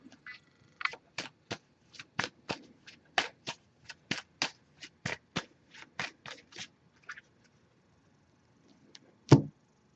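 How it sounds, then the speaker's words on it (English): An oracle card deck being shuffled by hand, heard up close as a steady run of about two dozen crisp riffling snaps, then a pause and a single sharper knock as the deck is set down. "I'm going to give this a few shuffles."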